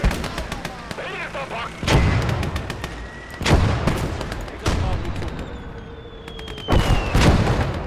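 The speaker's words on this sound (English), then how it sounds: "Okay, that's enemy artillery." Enemy artillery fires and impacts in the war video game Motherland, several heavy booms spaced a second or two apart amid scattered gunfire and whistling shells.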